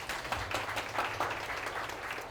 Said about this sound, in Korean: 이분한테 오늘 박수 할게요.